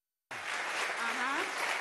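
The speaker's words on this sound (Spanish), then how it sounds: "Para ver la cara, un aplauso a los jefes de UVC." A crowd at a Venezuelan political program event in Nueva Esparta bursts into applause after a short silence, a dense, steady clapping that stays at an even level to the end, mixed with a few voices.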